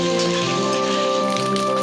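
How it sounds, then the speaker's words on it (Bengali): Grated coconut fries in a pan with dried red chillies and whole garam masala, a steady close sizzle and crackle throughout with no talk. "নারকেল কুচিটাকে আমরা হালকা করে লাল করে ভেজে নেব"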